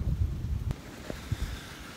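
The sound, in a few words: strong wind outdoors in tree stand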